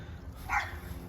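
One short bark from a neighborhood dog, heard at moderate distance over low background noise.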